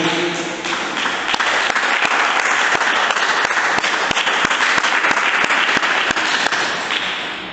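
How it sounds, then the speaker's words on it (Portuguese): Loud, sustained applause from a church congregation during a service, dense steady clapping that holds for several seconds before easing slightly at the end. "dê uma salva de palmas para Jesus"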